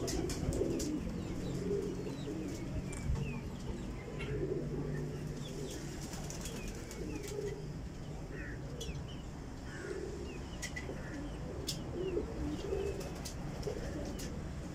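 Pigeons coo in a loft, repeating low throaty calls over and over with a few faint chirps and wing rustles mixed in, fairly close and steady throughout.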